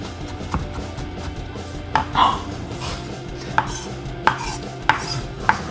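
A kitchen knife chops and minces food on a cutting board, a steady run of soft cuts broken by several sharp, louder strikes at irregular intervals, close and without talk.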